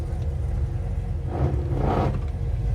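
A G-body car with a Holley Terminator X fuel injection setup being driven, a steady low engine rumble with a slight swell of acceleration midway, heard from inside the car.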